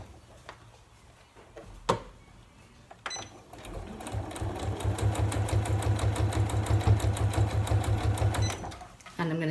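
A sewing machine stitches a fabric storage caddy across a thick side seam, starting with a few slow clicks, then running in a fast, steady mechanical chatter before stopping, close and clear.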